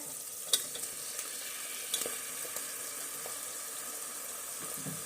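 Onion-tomato masala for egg biryani sizzles quietly in a pan, a constant low frying hiss broken by a few sharp utensil clicks and taps from stirring.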